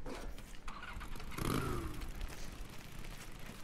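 A motorcycle engine in the video game Days Gone turns over and catches with a short rising rumble, surrounded by steady background noise, no voices.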